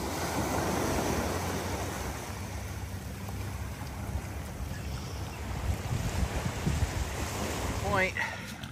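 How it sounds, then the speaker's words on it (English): Ocean waves wash in at a rocky point, a broad continuous surf hiss mixed with wind buffeting the microphone, steady and fairly loud with a few heavier surges toward the end. "get some rogue waves coming in"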